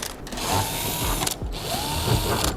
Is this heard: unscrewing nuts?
yes